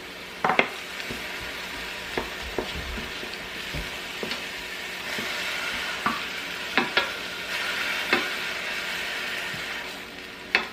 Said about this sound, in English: So first we go ahead and just saute the onions and peppers.